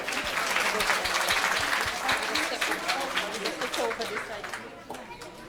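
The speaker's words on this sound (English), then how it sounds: "Can we give a round of applause for them?" Audience applause at a camp graduation ceremony for the girls of the babies class, a full burst of crowd clapping that thins into scattered claps toward the end, with chatter and voices mixed in.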